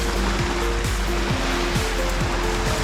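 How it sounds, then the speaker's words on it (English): Steady rushing surf of Mediterranean sea waves washing on a beach in Marbella, Spain, in winter, a constant broad hiss with a low hum and faint periodic clicks underneath. "listening to the sound of the relaxing waves of the Mediterranean"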